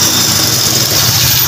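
A Honda C100 motorcycle engine idles after a CDI test, a loud, steady low chugging with constant vibration, close by and alone.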